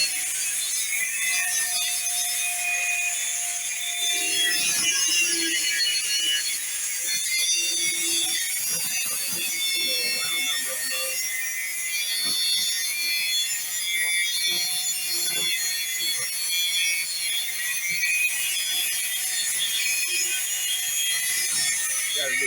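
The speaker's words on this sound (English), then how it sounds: "You got the grinder there." A grinder smooths the rounded edges of a marine-grade stainless steel fishing net, giving a continuous, bright abrasive hiss with scattered scraping strokes that runs steadily throughout and is heard alone.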